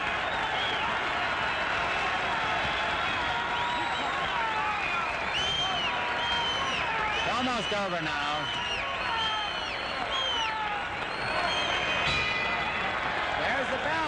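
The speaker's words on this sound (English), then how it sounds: "Listen to the applause." Boxing crowd at the end of a middleweight fight, a steady roar of cheering and clapping filling the arena while a ringside announcer talks over it.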